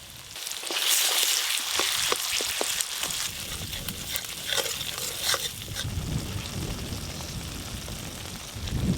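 Masala paste of chili powder, Kashmiri red chili powder, cashew and melon-seed paste sizzles in oil for a vegetarian aloo dum, a steady crackling fry with scattered sharp pops and clinks of stirring, no voices.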